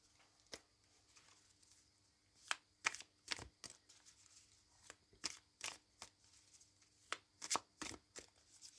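Tarot cards drawn and handled from a deck: a string of sharp, papery flicks and slaps, some in quick clusters, close and fairly quiet against a still room, with no voices.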